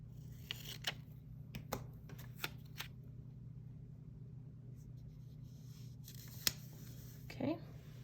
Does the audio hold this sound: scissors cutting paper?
yes